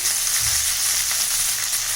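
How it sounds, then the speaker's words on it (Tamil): Loud, dense sizzling of dried red chilies and curry leaves frying in hot oil, a continuous crackling hiss right up close with no voices. "இதுலேயே ரெண்டு வரமிளகாய் போட்டுட்டு கருவேப்பிலை தாளிக்கிறதுக்கு போட்டுக்கலாம்"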